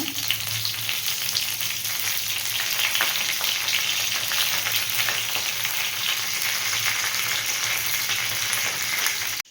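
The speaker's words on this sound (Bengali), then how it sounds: "দুটো শুকনো লঙ্কা আর সর্ষে ফোড়ন দিয়ে দেব আর কারি পাতাগুলো নিয়েছিলাম দিয়ে দেবো" Dried red chillies, mustard seeds and curry leaves sizzle in hot oil for a peanut chutney tempering, a loud, steady, close frying hiss with no talking that cuts off abruptly at the end.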